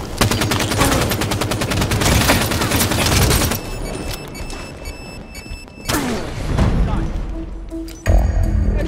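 Heavy automatic gunfire in Halo 5: Guardians multiplayer, a loud rapid burst of shots, a pause with lighter sounds, then more firing and a sharp final crack.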